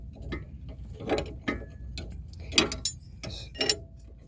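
Close-up ratcheting clicks from a 21mm wrench working a sway bar end link nut on a 6th gen Dodge Charger, coming in short irregular bursts of metallic ticks with pauses between them.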